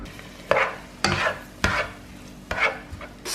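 Onions sautéing in a pan on a home stove, a steady close sizzle broken by four sharp clatters of stirring against the pan, with no voices.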